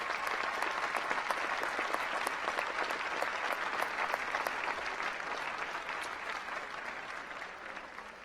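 Sustained applause from a large crowd at a university commencement ceremony for doctoral recipients, a dense, even wash of clapping that holds steady and eases slightly toward the end.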